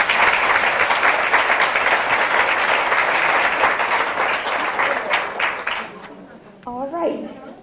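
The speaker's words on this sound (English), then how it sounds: "let's give her another hand clap" An audience at a Great Women in History event gives a speaker another round of applause. The clapping is dense and sustained, thins out toward the end, and a voice starts speaking as it fades.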